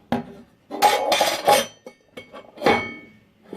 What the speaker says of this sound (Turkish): Şimdi ise metal kaşığımı metal tencereme vuracağım.